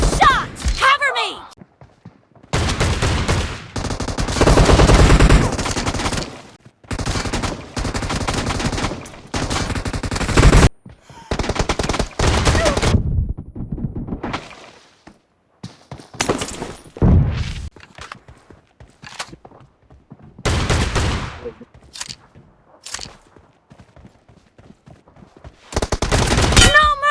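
Shotgun and sniper fire in a PUBG Mobile room challenge: loud, close bursts and single shots come in clusters separated by short silences, with footsteps and thuds between them and brief game voice lines.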